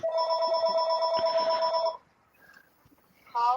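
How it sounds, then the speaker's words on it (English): Electronic phone ringtone trilling loudly and steadily for about two seconds, then silence, then the ring starting again near the end, heard in a workshop while a Briggs Quantum small engine is being repaired. "Wayne, your phone's ringing."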